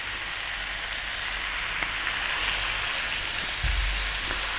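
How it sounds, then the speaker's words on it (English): Chopped cherry tomatoes sizzle in a frying pan with bacon and cabbage after a splash of water goes in, a steady loud hiss with a brief bubbling burst near the end. "because so far we've been frying, we just want to do a little bit of steaming here"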